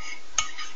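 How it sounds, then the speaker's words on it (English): A spoon stirs a thick mix of yogurt and honey for a homemade hair mask, giving one brief clink against the bowl within a soft, steady scraping close by. "now I'm just going to mix it up with the honey and the yogurt"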